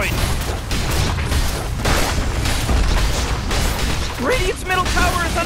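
Tower destruction in Dota 2: a dense, continuous roar of booming crashes and bursts through the whole stretch, with a game announcer's voice speaking over the din.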